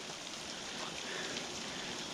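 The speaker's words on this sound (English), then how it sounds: "Oh, it's like a little creek or stream or something here." Creek water pours steadily from a tube at Flume Gorge in New Hampshire, a continuous broad rushing and splashing wash with no pauses, fairly close.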